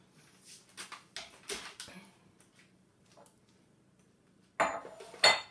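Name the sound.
clearing utensils off a kitchen work surface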